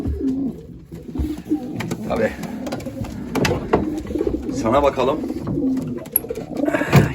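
Pigeons coo steadily in low, throaty rolls close by, while someone talks quietly over them.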